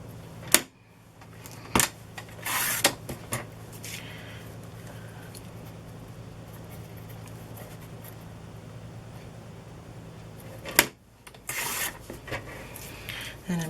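Homemade washi tape is cut with a few short, scratchy snips and rustles, quiet and close, separated by long near-silent gaps.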